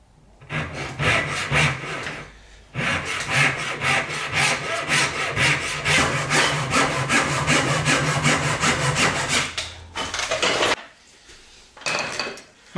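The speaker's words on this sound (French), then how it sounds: "Maintenant, je coupe les arasements, je laisse un petit peu de matière, je reprendrai au ciseau tout doucement." Hand saw cutting shoulder lines in wood for a Roubo workbench top, close rhythmic rasping strokes in a long steady run, a short pause near the start, then a few last strokes after a brief break, with no talk.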